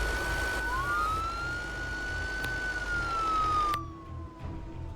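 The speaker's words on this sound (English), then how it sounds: "there's my wee police car" A police car siren in an emergency services dispatch video game wails in a long rising and falling tone over engine rumble, then cuts off abruptly near the end.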